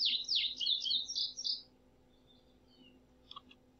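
A bright, rapid twittering bird call added as a sound effect, loud for about a second and a half, then fading to faint scattered chirps and a couple of soft clicks over a low steady hum.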